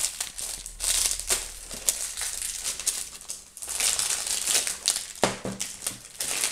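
Packages being unwrapped, with paper and plastic crinkling and crumpling close by in a steady rustle that rises and falls throughout.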